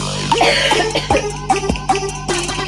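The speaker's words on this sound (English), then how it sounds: "Helping my cough." A string of about five harsh coughs in quick succession, rising over a steady humming background.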